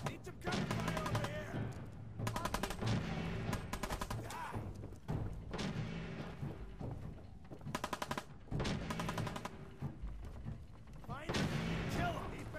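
Fallout 4 gunfire during a fight, repeated bursts of automatic shots in clusters across the stretch, loud and close, under in-game shouting voices.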